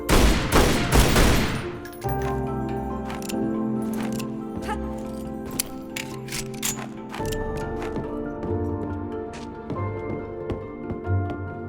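Rapid gunfire from the Tomb Raider: Anniversary video game, a dense burst of shots at the start followed by repeated sharp cracks over looping game music with a sustained tonal backdrop.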